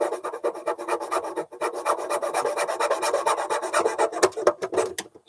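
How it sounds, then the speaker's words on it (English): A wooden dowel in the neck of an old bird's-eye cello is cut by hand, giving close, continuous back-and-forth rasping strokes for about five seconds with brief pauses. "First thing we'll do is cut off this dowel that they put in."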